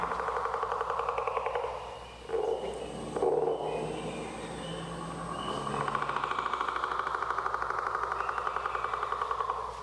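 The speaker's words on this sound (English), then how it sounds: "So I'm going to play the southern leopard frog's call." Recorded call of a southern leopard frog, a dense rapid chuckling and clucking chorus that runs continuously with rough pulsing texture, fairly loud and alone without talk.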